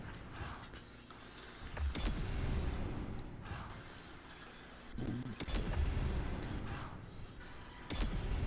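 Predator missile explosions in a video game: several heavy booming blasts with rumbling, crackling tails recur over the span, with quieter mechanical creaks between hits and no talking.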